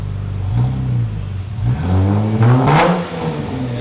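A car exhaust with the resonators and mid mufflers removed revs up and down loudly and close by, in rising and falling harmonic sweeps that climb to a sharper peak near the end.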